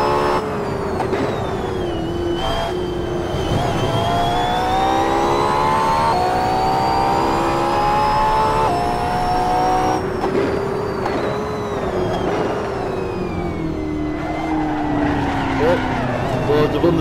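A race car engine at Laguna Seca in a racing video game revs and shifts through the gears, its pitch climbing and dropping, loud and continuous, with a voice speaking over it.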